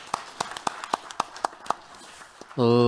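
At a Korean carbon-neutrality and ESG policy forum, an audience claps to welcome a speaker. About a dozen sharp, separate claps come in an uneven rhythm, then a voice begins at the end.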